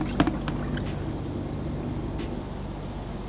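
Water rinsing through the removed paint strainer of a Graco LineLazer ES 1000 electric line marker, a steady rushing wash with a brief splash near the start and no talking.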